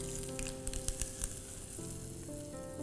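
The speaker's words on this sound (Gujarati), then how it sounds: "આપણો વઘાર થઈ ગયો છે હવે આપણે આ ચટણીમાં નાખશું" Hot tempering of urad dal and mustard seeds poured into coconut chutney, sharp popping crackles near the start settling into a steady close sizzle, no talk.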